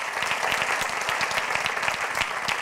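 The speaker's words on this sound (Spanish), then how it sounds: "¿Por qué no le damos un aplauso a Jesucristo?" Steady applause from a large church congregation, dense clapping filling the space without pause.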